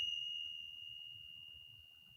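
Small Tibetan cymbals or bells ring once with a clear, high sustained tone that fades slowly over a couple of seconds, alone and quiet.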